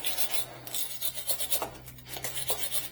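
A wire brush scrubbing a GMC truck's idler arm and tie rod steering parts, giving rapid rasping strokes in a steady rhythm, close and moderately quiet.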